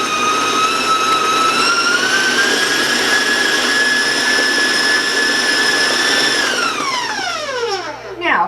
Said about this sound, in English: I want to warn you about the sound of my mixer.